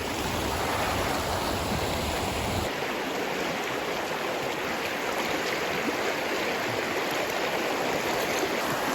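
A hill stream near Lansdowne, muddy and swollen after a night of rain, rushes on in a loud, steady wash that fills the whole clip, with no voices over it.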